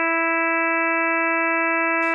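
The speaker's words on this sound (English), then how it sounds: "If you emphasize only the even overtones, it sounds like this." A steady synthesized tone with only its even overtones emphasized, holding a bright stack of evenly spaced partials at constant loudness for about two seconds, then cutting off into a short burst of noise.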